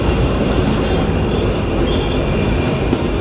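Paharika Express passenger train on the Sylhet to Chittagong line in Bangladesh, a steady loud rumble and rattle of rolling carriages heard from on board, continuous for the whole stretch with no talk.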